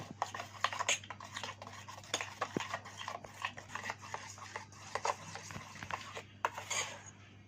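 A spoon mixes ingredients with mustard oil in a bowl for steamed egg curry, giving quiet repeated clinks and scrapes at an irregular rhythm, up close.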